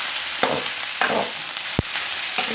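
Okra (bhindi) fries in a pan until golden, loud close sizzling that swells in bursts as it is tossed, with a single sharp knock partway through and no voices.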